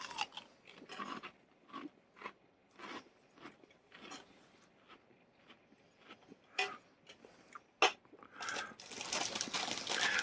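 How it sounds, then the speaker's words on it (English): Crisp Romanian snacks are crunched and chewed in a series of sharp, irregular bites close to the ear, quiet pauses between, growing into a denser rustle at the end. "There's a good crunch and they a bit greasier on the tongue."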